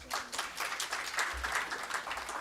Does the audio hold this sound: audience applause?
yes